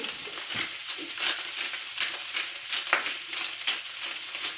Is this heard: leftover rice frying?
yes